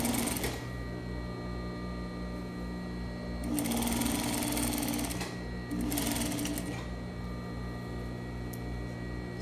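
A sewing machine stitches the side seam of a fabric bodice, running in a steady mechanical whir close up, with two brief faster bursts partway through and no talking.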